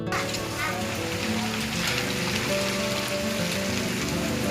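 Loud, steady heavy monsoon rain after 36 hours of continuous downpour, pouring in a dense hiss, with a voice speaking faintly underneath and some tonal background noise.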